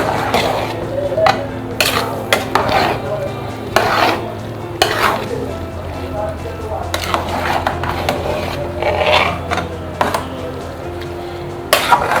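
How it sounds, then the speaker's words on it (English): A spoon scrapes and knocks around a pot as rice is stirred with a mixture, giving repeated metallic clinks and scraping strokes over a faint sizzle and background hum, with occasional speech nearby. "you need to stir evenly, just so that some of the mixtures will go into the rice very well"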